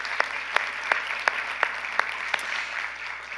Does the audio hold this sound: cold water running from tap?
no